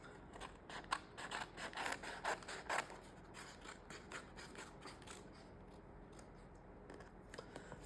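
Small scissors snipping rounded corners off paper, a quick run of crisp close cuts followed by quieter, sparser snips in a calm room.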